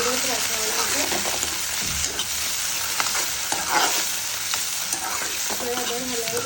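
Finely chopped tomatoes fry in a pan on low flame for a sev tomato curry, giving a steady close sizzle with intermittent scraping and stirring strokes throughout.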